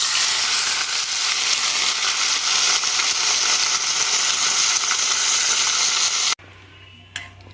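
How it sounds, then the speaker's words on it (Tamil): Hot oil is poured over chili to make chili oil for a creamy pasta, giving a loud, dense, continuous sizzle that cuts off abruptly into quiet room tone with a small clink. "எண்ணெய் நல்லா சூடானோன்னே அப்படியே போய் ஊற்ற போகிறோம்."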